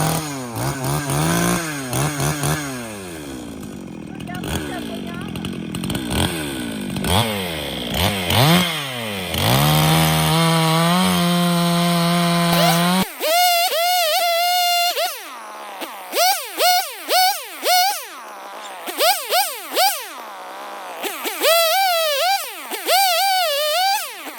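A chainsaw cuts firewood outdoors, the engine revving and bogging in repeated loud surges as it bites through logs, with short idle dips between cuts.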